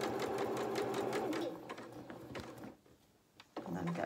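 A sewing machine top stitches wool coat fabric, running steadily at close range, falling quiet for about a second, then starting up again.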